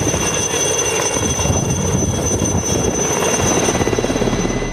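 A Mi-series military helicopter of the Indian Air Force roars loudly and steadily, its engine whine and rotor chop continuous throughout, with no voices.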